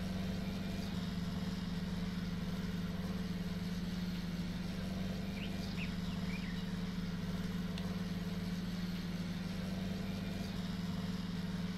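A John Deere 8R tractor pulling a chisel in Farming Simulator 19 hums with a steady, low diesel drone, running evenly and close throughout with no pauses.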